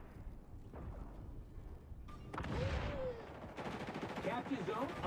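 Gunfire in a shooter video game, bursts of rapid shots crackling at moderate distance, with voices talking over the action in the second half.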